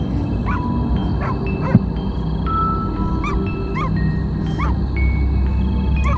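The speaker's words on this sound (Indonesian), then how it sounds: "Suara anjing terus menggonggong." A dog barks again and again in a dark forest in Lembang, short yelping calls at a steady rhythm, fairly distant over a constant low hum.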